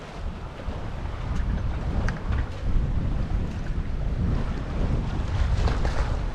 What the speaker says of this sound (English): We've got 12 knots of breeze from behind, from the northeast